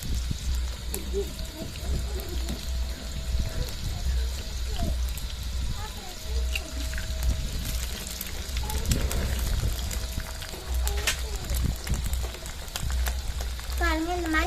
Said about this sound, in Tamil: எண்ணெய் காஞ்சிக்கிறது நாலு மிளகா சேர்த்துக்கலாம்